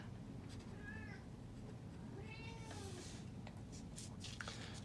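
A domestic cat meows twice, a short call near the one-second mark and a longer drawn-out one a moment later, set against a steady low background hum with no talking.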